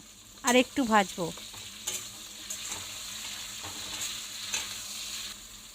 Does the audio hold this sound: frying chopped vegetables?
yes